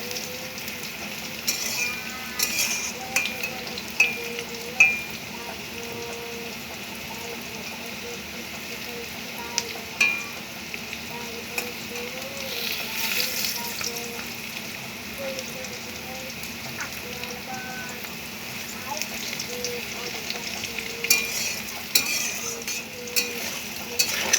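Crab fries in a pan with a faint, steady sizzle and crackle that runs the whole time, with a voice talking over it now and then.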